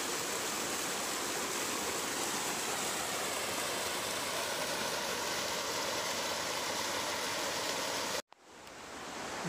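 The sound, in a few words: waterfall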